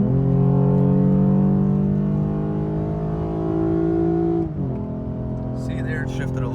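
A 2017 Lexus IS 350 with an RR Racing tune revs up toward 7,200 rpm, a loud, steady engine drone that rises in pitch, then drops sharply at the shift, heard close and alone.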